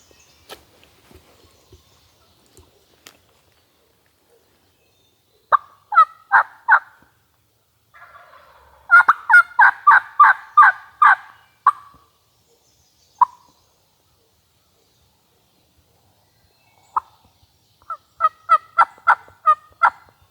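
An eastern wild turkey gobbles in several rapid, rattling bursts separated by long quiet gaps, fairly close and clear in an otherwise silent hardwood forest.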